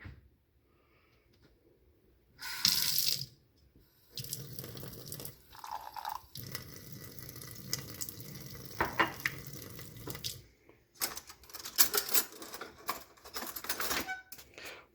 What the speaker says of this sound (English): I'm going to go over to the sink and add a little bit of water